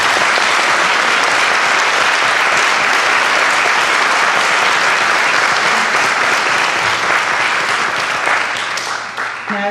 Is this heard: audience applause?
yes